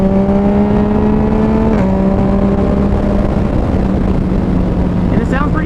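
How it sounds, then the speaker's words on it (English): Steady idling drone from a 2019 Yamaha MT-09 motorcycle fitted with an Arrow Street Thunder black exhaust can with carbon tip, holding a low even tone with a slight dip partway through, close and continuous. "this is the Aero Street Thunder black can with carbon tip."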